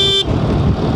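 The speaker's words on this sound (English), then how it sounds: "I'll hit the horn again to sync" A BMW R1300 GS motorcycle horn gives one steady, loud, close toot lasting about a fifth of a second, then cuts off and leaves low engine and wind rumble on a snowy winter countryside ride.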